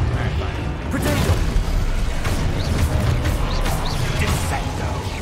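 Confringo fire spell blasts go off in Hogwarts Legacy during a chaotic fight, a dense run of loud booming bursts with the player talking and shouting over the top.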